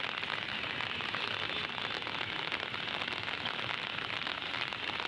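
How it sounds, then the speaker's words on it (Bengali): Steady, soft rain hisses and patters continuously over Keraniganj, Dhaka, an even wash of noise with no voices. "আজকে মেঘলা মেঘলা বৃষ্টি পড়তেছে"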